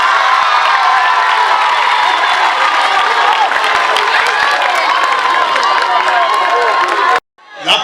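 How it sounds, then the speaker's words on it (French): A large crowd at a school merit and teacher-congratulation ceremony applauds, cheers and shouts in a dense, loud, continuous roar with children's voices, cutting off abruptly near the end. "Applaudissez pour moi."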